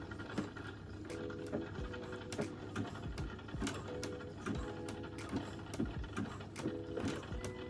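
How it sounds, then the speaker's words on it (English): A home sewing machine runs at its slowest setting, zigzag stitching elastic onto swimwear fabric, giving a steady whirring hum with rapid rhythmic needle ticking throughout, close and continuous without speech. "I have my machine on the slowest setting. So let's start."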